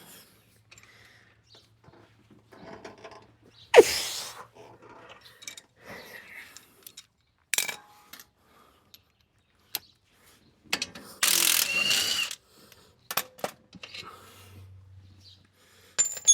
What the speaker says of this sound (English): See, here's a 3/4 inch breaker bar with a step down